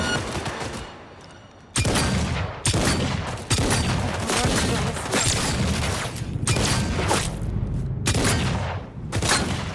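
Rapid gunfire from a Cyberpunk 2077 firefight, dense bursts of automatic shots and booming blasts repeating in loud clusters for nearly ten seconds, with a brief quieter gap before the barrage resumes.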